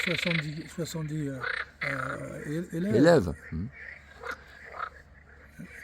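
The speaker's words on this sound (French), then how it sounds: "Et donc tout ça, on est accompagné par les grenouilles, tu vois." Frogs croak in a steady chorus beside a gathering in the French countryside, a rhythmic, throaty pulsing that carries on under and between a man's conversational speech.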